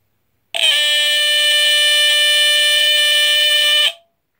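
A GE Home Sentry 8201-001 smoke detector sounds its alarm horn in a single loud, shrill, continuous blast lasting about three seconds, starting and stopping abruptly with no talk.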